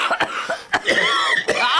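A person coughs repeatedly in short, harsh bursts close up, with a rough throaty rasp between the coughs.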